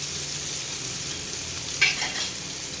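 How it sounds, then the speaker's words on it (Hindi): Potatoes fry in a pan for a Sindhi-style aloo dish, a steady low sizzle with one short scrape of stirring partway through and a softer rustle after it. "इधर आलू को घुमा देते हैं"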